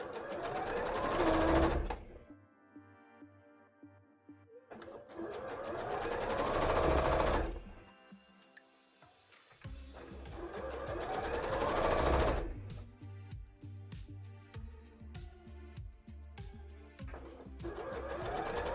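A sewing machine stitches fabric in three bursts of rapid mechanical whirring, each a few seconds long, with quieter pauses of handling between them.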